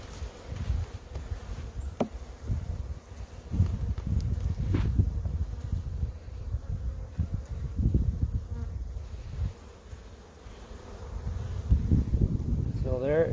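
Honeybees buzz steadily at an open spring beehive during an inspection, a continuous close drone that swells and fades as the frames are handled. Speech is faint or absent.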